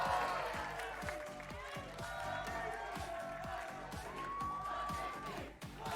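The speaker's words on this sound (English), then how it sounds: "Everybody here cheering for 100 Thieves" An esports arena crowd cheers and applauds for 100 Thieves at a LOTUS Americas League match, a steady roar of many voices with whoops and clapping, with a voice speaking over it.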